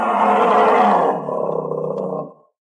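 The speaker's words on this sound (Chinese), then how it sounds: "是黑瞎子，听声音离不远" A black bear roars close by in a forest at night, one long deep bellow that drops partway through, continues a moment longer and then cuts off.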